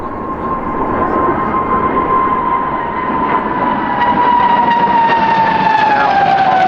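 A display team jet pulls into a vertical climb at Farnborough Airshow, a loud, continuous engine roar with a steady whining tone that slowly drops in pitch as it sweeps away.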